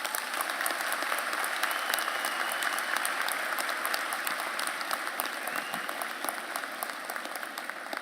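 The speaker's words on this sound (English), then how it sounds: "Please give one more round of applause to our keynote speaker, Alyssa Owsley" Steady applause from a commencement crowd for a keynote speaker at a university graduation ceremony, a continuous, moderately distant wash of clapping that holds evenly throughout.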